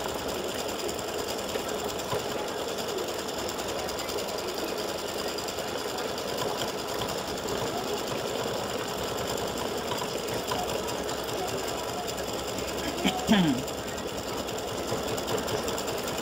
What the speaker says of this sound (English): now it should be getting ready to do the satin stitching around